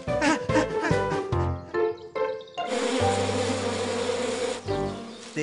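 Bees buzz around a beehive in an animated Bananas in Pyjamas cartoon, a steady mid-level drone that runs alongside tonal cartoon sounds, with no one speaking.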